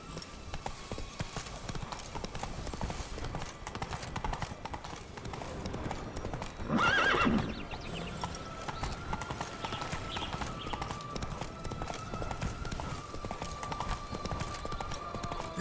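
Hooves clip-clop in a steady, quick rhythm as a horse gallops in The Witcher 3, with a louder burst of effort midway and a faint background drone underneath.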